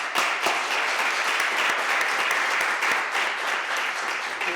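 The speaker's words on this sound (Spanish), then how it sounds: "Un aplauso." An audience at an endocrinology colloquium applauds, giving a steady, dense burst of clapping that holds at even volume throughout the short stretch.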